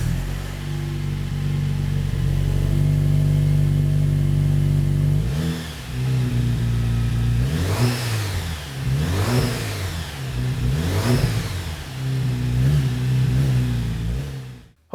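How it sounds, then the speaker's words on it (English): A 2018-2019 Jeep JL Wrangler fitted with a Borla 2-1/2 inch dual split rear exit S-Type exhaust idles with a deep rumble, then revs several times in rising and falling surges, loud and close. "give you guys a sound clip of what it sounds like when the Jeep's running"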